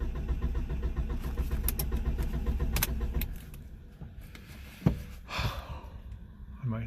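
A one-cylinder engine cranks on a sticky starter without catching, giving a steady mechanical churning that stops partway through, followed by a few clicks and faint handling noises.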